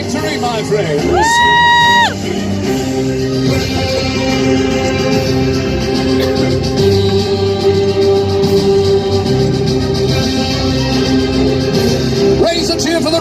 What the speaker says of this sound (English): Raise a cheer for the red and yellow knight!